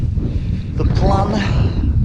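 Wind buffets the microphone in a steady low rumble on open moorland, gusting a little louder partway through, with no other clear sounds.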